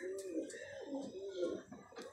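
Golden pigeons with silver markings cooing nearby, a few soft rolling coos in succession, with faint higher chirps over them.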